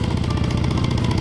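Harley-Davidson Sportster 48 motorcycle engine while riding, a loud, steady, rhythmic pulsing rumble, close and continuous throughout with no talking.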